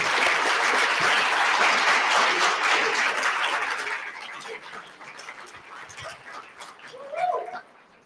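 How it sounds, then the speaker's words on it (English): Graduation ceremony audience applauds the students, loud sustained clapping that fades after about four seconds into scattered claps and crowd noise, with a brief whistle or cheer near the end. "give it a big applause to all the students here for their hard work and commitment"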